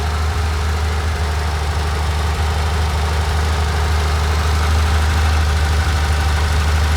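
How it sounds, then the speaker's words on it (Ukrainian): A boat propeller gives a steady, droning hum with a strong low tone and constant mechanical vibration, the motor itself nearly silent, unchanging throughout with no voices. "Тут гудить лише пропеллер."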